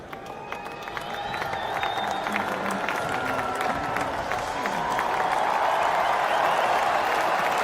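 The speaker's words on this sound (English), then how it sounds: "that probably just about eclipses the Peterson cheer, roar, if you like, as he came to the crease" Large cricket crowd at an MCC versus Rest of the World match roaring and applauding as a batsman walks out to the crease, a dense, sustained wall of cheering and clapping that swells after the first second and stays loud throughout.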